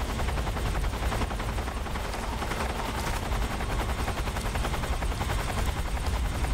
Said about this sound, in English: The helicopter noises are making me very nervous.